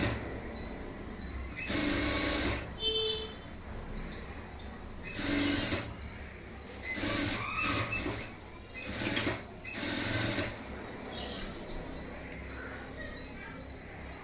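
Sewing machine running in several short bursts while double-stitching the shoulder seam of a high-neck blouse, with brief pauses between the runs.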